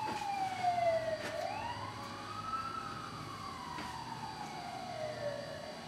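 A police car siren wails past, its tone sweeping slowly up and down while it stays loud and close, carried over a steady hum of traffic, with no talking.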